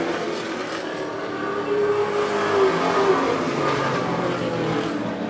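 Race car accelerating hard out of turn four of an oval track during a late-model stock race, a continuous loud engine roar that swells and builds as it pulls away.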